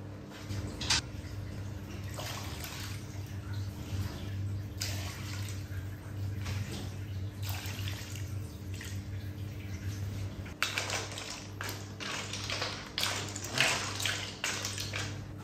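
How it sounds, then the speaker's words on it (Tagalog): Broth is poured into a pot of clam soup with halaan shells, a running watery splash with intermittent bursts and clinks from the pot, close by and fairly quiet, with no talk. "Lagyan natin ng sabaw."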